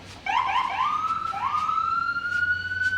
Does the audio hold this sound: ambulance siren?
yes